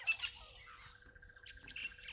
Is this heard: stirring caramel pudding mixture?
no